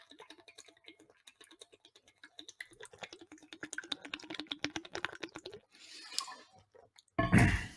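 A person chugging water in a quick run of close, rhythmic gulps that grow louder, followed by breathy exhales and a sharp burst of air at the end, with no talking.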